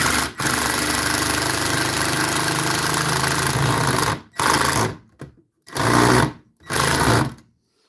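Power drill driving drywall screws: one long, loud whirring run up close, then several shorter bursts with brief pauses between them.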